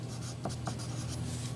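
A pen or marker scratches steadily across paper while drawing on a paper moon phase model, a soft continuous rubbing close to the microphone with a few brief strokes standing out.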